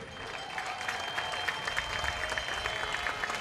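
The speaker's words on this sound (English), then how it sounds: "Mike Chambers with a well-deserved round of applause, the manager of the year" Applause from a crowd at a summer baseball game honoring the manager of the year, a continuous mass of clapping with some cheering that fills the whole stretch evenly.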